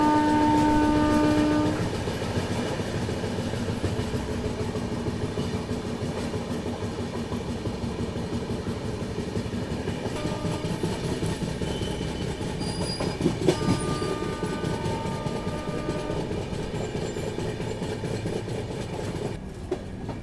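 The Marudhar Express passenger train runs along the tracks near Sambhar Lake, with a steady loud rumble and clatter of wheels, a horn blast at the start and brief metallic squeals midway.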